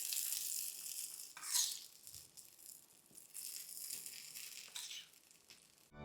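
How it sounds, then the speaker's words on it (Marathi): Hot tempering is poured over a coconut-free dosa chutney, giving a bright crackling sizzle that flares in bursts, then settles to a quieter hiss with faint clinks of a utensil. "या चटणीवर देखील फोडणी घालूया."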